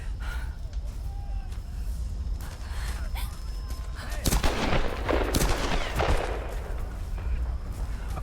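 Gunfire in the video game Tomb Raider, a dense burst of shots and loud bangs in a chaotic firefight over a steady background rumble, with no one speaking.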